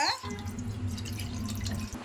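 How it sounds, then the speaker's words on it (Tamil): A glass of water poured into a pan while making vermicelli payasam, a steady close splashing pour lasting about two seconds over a low background hum. "அதில் ஒரு கிளாஸ் தண்ணி ஊற்றிக்கோங்க"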